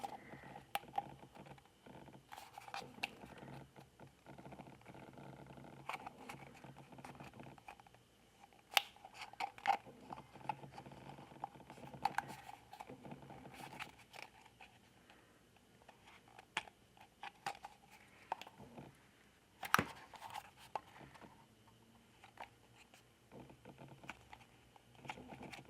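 A blade trims the inside of a 1/6 scale vinyl figure kit, giving close, quiet, irregular scraping and crunchy clicks in short bursts with small pauses, with no voices.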